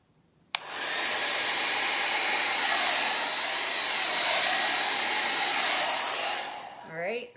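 A hair dryer switches on with a sharp click and blows a loud, steady whoosh for about six seconds, pushing acrylic pour paint across a small Dutch-pour canvas, then winds down at the end.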